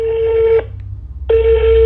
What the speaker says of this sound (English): Yo, it's actually ringing right now.